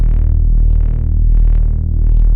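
A compressed synth saw bass for melodic drum and bass drones thick and heavy, loud and low with softened mids, slowly shifting in tone over a couple of seconds with no voice.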